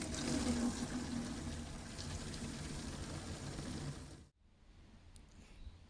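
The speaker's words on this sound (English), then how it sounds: "And then we just fill up from the tap." Water running steadily from a tap into containers for a camper van, a broad rushing flow that cuts off abruptly near the end, followed by quiet room tone.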